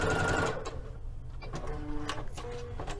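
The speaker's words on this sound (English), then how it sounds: "we're going to go ahead and sew this first section here. Back stitching at the beginning" A sewing machine stitches a seam in Liberty London fabric for a palazzo suit, running in steady bursts with a brief pause and back stitching, close and fairly loud with no talk.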